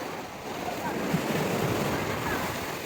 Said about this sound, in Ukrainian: Подивіться, як хвиля перекочується через хвильорізи.